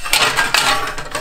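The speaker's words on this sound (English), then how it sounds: "these are Paula Deen cake pans" Paula Deen cake pans clink and clatter as they are handled, giving a quick run of close metallic knocks and rattles over about a second, with no talking.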